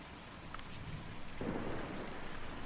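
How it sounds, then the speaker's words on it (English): Steady rain and a swelling rumble of thunder from a thunderstorm in the video game Kentucky Route Zero, a dense wash of downpour that grows louder midway as the low thunder rolls in, with no talking. "Difficult to see or even hear a storm like that."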